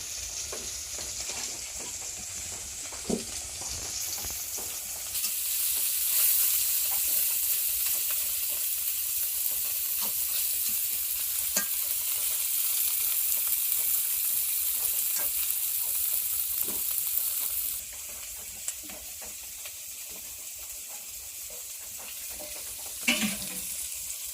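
Fish sizzles steadily while frying in a pan in a village kitchen, with a continuous bright crackle that swells louder for a stretch in the middle, occasional stirring clicks, and no talk.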